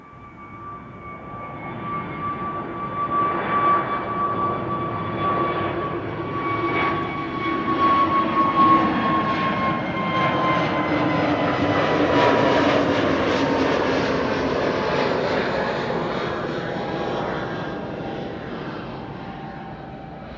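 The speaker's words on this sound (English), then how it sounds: "this is SAS flight 552 to Copenhagen. A320 Neo, the Seraph" An SAS Airbus A320neo departing Amsterdam Schiphol for Copenhagen gives a jet engine roar that builds and passes over about twenty seconds, with clear whining engine tones sliding down in pitch, no talk.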